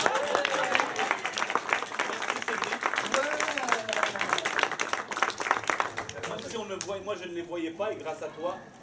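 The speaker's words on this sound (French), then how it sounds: "J'aimerais qu'on applaudisse Cédric qui a trouvé tous les fruits" Audience applause at a summer music and arts workshop stage show in Dour, steady clapping from a seated crowd that thins out near the end as a voice begins talking over it.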